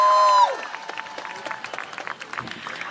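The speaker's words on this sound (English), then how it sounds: "Let's give Cindy another round of applause." Audience at a political rally giving a round of applause, a dense crowd clapping with scattered cheers, following a sustained loud tone that cuts off at the start.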